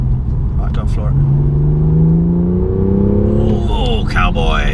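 Turbocharged engine of a 2016 BMW M2 pulling hard at full throttle, a loud, close, steadily rising drone that climbs in pitch for a few seconds before a gearchange-like break, with people talking over it.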